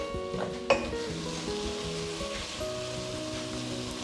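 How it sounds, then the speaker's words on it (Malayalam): Marinated chicken pieces drop into biryani masala in a hot pan, setting off a loud, steady sizzle with a brief clatter as they land; no voices. "ഇനി നമുക്ക് നമ്മൾ നേരത്തെ മാരിനേറ്റ് ചെയ്ത് വെച്ചിരിക്കുന്ന ചിക്കൻ ഈ ഒരു മസാലയിലേക്ക് ചേർത്ത് കൊടുക്കാം"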